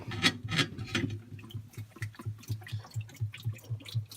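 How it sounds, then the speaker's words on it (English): Cleaning solution glugs from a bottle into the bin of a Marvel ice maker that is switched off, a few loud splashy bursts at first, then a quieter, even, rhythmic gurgle. "Now I'm pouring my cleaning solution into the bin."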